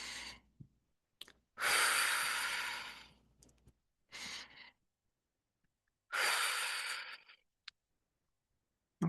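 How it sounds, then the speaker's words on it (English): A group of people breathes out deeply together during a guided heart-opening class, with three long, loud, breathy exhales separated by pauses and a few brief faint sounds in between. "Breathe it out like you mean it."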